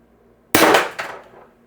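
A BP50 air rifle fires a heavy LLB Vindicator .50 caliber round with a tuning barrel extension fitted, giving one sudden loud close crack followed by a short decaying echo and a second fainter knock.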